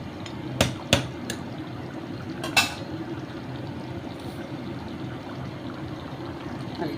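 A spoon stirring mutton pulao in a pot on low heat gives a few sharp metallic clanks early on, then settles into a steady, quiet scraping and simmering hiss, with no voices.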